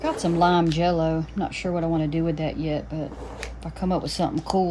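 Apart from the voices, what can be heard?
No distinct noise like a dog, phone or traffic.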